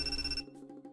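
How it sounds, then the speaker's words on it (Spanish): A mobile phone ringtone in a visual novel video game plays a bright tonal chime that stops abruptly after under half a second, followed by quiet background music. "Oh, lo siento, mi celular."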